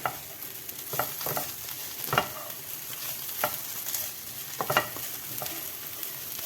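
Calf liver fries in a pan with a pinch of sugar for light caramelising, a soft continuous sizzle broken by repeated scraping strokes of a utensil stirring at an uneven rhythm.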